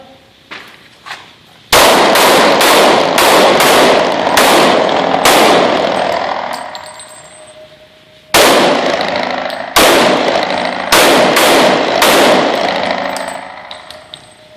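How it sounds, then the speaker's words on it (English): Rapid handgun shots fired while retreating to cover ring out loud and close in two strings of sharp cracks, about six then five, with echoing decay between them. "He'll retreat, firing as he retreats, and he will go to cover."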